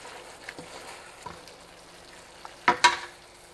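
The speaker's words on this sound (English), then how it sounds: "Stir fry until the sauce thickens, and after that, the stir fried beef is done." Beef and onion stir-fry in a thickening sauce, heard as faint scrapes and soft sizzling with a few louder stirring clatters near the end, close by and fairly quiet overall.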